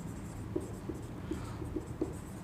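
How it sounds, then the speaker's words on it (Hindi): Soft scratching of a hand writing a sentence, faint and close, with light irregular pen taps over quiet room noise. "मैं यहाँ पे एक सेंटेंस लिखता हूँ,"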